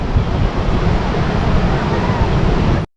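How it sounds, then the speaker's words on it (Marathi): Sea waves wash onto a long open beach in a loud, steady roar of surf mixed with wind noise, then cut off abruptly at the end. "एकदम छान असा अथांग असा समुद्र किनारा आहे"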